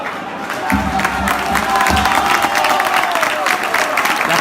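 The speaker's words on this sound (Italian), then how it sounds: "Gli applausi per Camarà." A football stadium crowd applauding and cheering a player substitution in a dense, sustained wash of clapping, with a voice speaking briefly early on.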